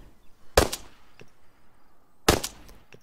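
Makarov pistol shots in the video game Arma 3 are heard as two sharp, fairly loud cracks about 1.7 seconds apart, each followed by a short metallic ring and faint echo.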